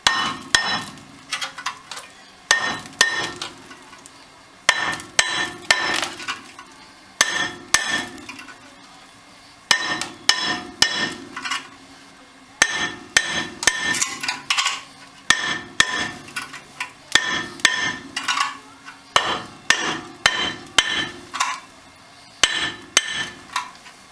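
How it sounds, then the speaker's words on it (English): Repeated sharp metallic hammer blows ring out in uneven bursts, clanging loudly against a rusty front brake rotor on a 2006 Ford F350 dually, with short pauses between volleys. "let's get yourself a decent little hammer and give it a couple of whacks"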